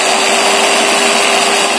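Continuous loud whine and grinding of a power drill boring a hole in a Pulsar 150 motorcycle handlebar, steady and close with a sustained tone.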